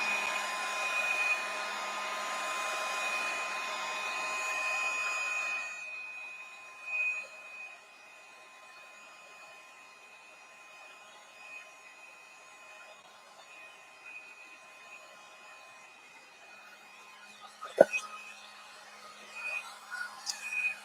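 A hair dryer blows steadily and fairly loud for about five seconds while drying wet watercolor paint, then cuts off, leaving quiet room sounds with a sharp knock near the end.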